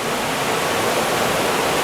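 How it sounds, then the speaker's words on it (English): Water pours steadily through a discharge gate at a water farm lagoon, making a dense, continuous rushing roar, loud and close, with no gaps or voices. "This is the lagoon discharge, and over there goes your point discharge,"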